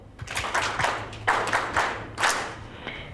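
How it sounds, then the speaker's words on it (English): A small audience at a forced migration conference applauds a presenter, with a few bursts of clapping that swell and fade within about three seconds, fairly close and moderately loud. "Let's give them another round of applause."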